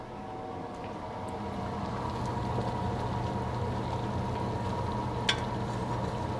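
Wine and lamb shanks in a pan for braising, giving a steady, dense sizzle and bubbling that holds evenly throughout, with a single brief clink near the end.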